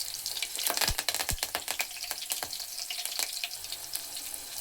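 Curry leaves spatter and crackle in hot oil in a pan with green chillies for onion pulusu, giving sharp bursts of sizzling pops close up that settle into a steady hiss.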